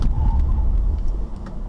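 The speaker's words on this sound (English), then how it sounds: "How about test out the brakes? Here's a stop sign. Do a speedy stop." A 2003 Lexus ES300 brakes hard to a quick stop at a stop sign, heard from inside the cabin as a loud low rumble of road and engine noise that gradually eases off.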